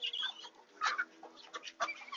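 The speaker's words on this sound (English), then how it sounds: "Chickens are fed." Backyard chickens clucking after feeding, a few soft scattered clucks and short calls at moderate distance, with no talk.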